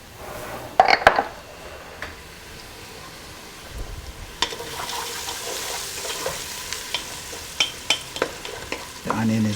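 Onion frying with turmeric in a pot, a steady soft sizzle with sharp clinks and scrapes of a utensil against the pot near the start and scattered light taps throughout, no talking.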